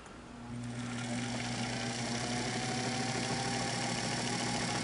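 Singer 329K sewing machine with its bobbin case removed runs at a steady mechanical hum and rapid rattle, close and continuous after a brief start-up, with no talk.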